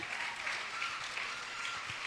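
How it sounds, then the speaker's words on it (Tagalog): Faint, dense applause rises from a congregation at a church preaching contest, a soft steady wash of many hands clapping at a distance for about two seconds. "So isang malakas ng palakpak para sa ating Panginoon."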